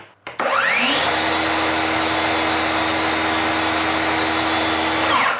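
A Dongcheng DCMY165S cordless circular saw with its blade fitted spins up after a short start and runs at a steady, loud, high-pitched whine for several seconds with no other sound.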